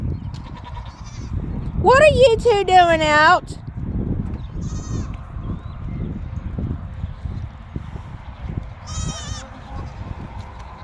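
Farm goats bleating outdoors, one long loud wavering bleat followed by a couple of fainter, shorter calls, with a person talking throughout.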